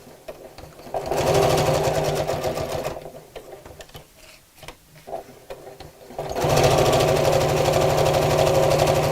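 Sewing machine stitching kraft-tex, running in two steady bursts with a short pause and some handling noise between them, close and fairly loud.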